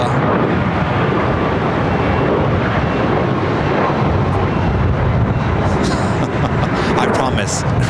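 Jet airliner roaring steadily at Los Angeles LAX airport, a loud, continuous broadband engine rumble with wind buffeting the microphone throughout.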